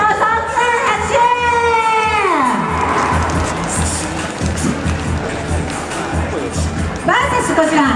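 Crowd at a Japanese lowrider car show final in 2012, with a dense roar of cheering and applause that runs steadily throughout, mixed with some shouting and announcer voices.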